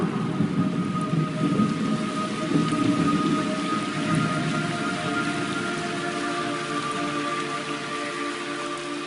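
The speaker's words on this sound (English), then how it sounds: "It's raining blood." Heavy rain pours steadily in the video game Metal Gear Solid 3 Snake Eater Remake while deep thunder rumbles and rolls underneath, loud at first and gradually easing.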